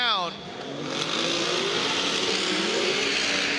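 Two drift cars duel in a 2018 competition, one chasing the other through a slide, with engines screaming high and rising over a steady roar and tire noise, while a commentator talks over it.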